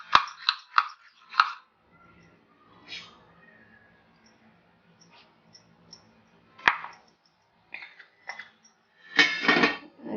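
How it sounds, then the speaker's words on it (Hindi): Ghee and pineapple custard powder being whisked into a paste in a bowl, giving a few short scraping, clinking strokes in bursts with quiet gaps between them. "और इसे अच्छे से फेंटेंगे।"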